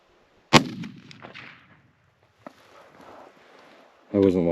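A single loud rifle shot rings out sharply on a hunting trip, followed by faint rustling, a small knock and nearby voices talking.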